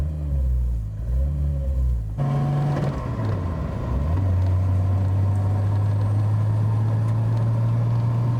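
A Nissan R32 drives off after clutch repair work, its steady engine rumble dropping in pitch and then settling into a constant drone with road noise, heard close and loud with no talking.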